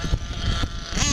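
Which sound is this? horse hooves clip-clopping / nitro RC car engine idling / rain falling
nitro RC car engine idling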